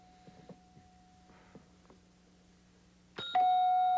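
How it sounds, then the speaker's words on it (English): A quiz show timer bell during a 1995–1996 high school academic competition rings out as a sudden loud, sustained electronic tone near the end, after a few quiet clicks and taps. "No, the bell beat you."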